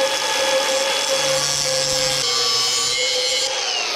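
A power tool grinds through the fuel plate on a 1979 Ford truck with a Cummins engine, a loud, continuous whining cut with shifting tones and no talk.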